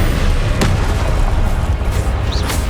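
Blasting Confringo spell explosions in Hogwarts Legacy form a loud, continuous rumble of booms and bursts with a couple of sharp cracks in combat, with no talk over them.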